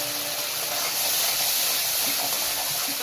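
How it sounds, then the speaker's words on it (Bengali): Gobindobhog rice sizzles with spices in a hot pan, a dense steady hiss that stays constant and close for the whole stretch. "এই যে গোবিন্দভোগ চালটা দিয়ে দিয়েছি, এটা একটু কষাই"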